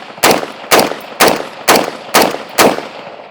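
An SG36 rifle fires with its stock folded, six sharp, loud shots evenly spaced about half a second apart, each with a brief ringing tail.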